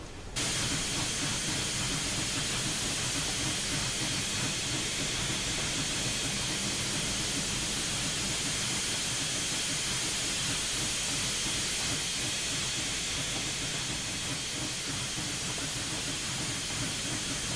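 Union Pacific Big Boy steam locomotive in Train Simulator 2021, climbing the Wasatch, gives a loud, steady roar of hissing steam and rumbling rail noise throughout, with no voices.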